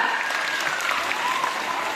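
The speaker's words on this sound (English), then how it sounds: "So give her a big round of applause." Audience applause for an inspiring woman at a live event, a steady dense wash of clapping filling the whole stretch with faint whistles or cheers mixed in, no words spoken.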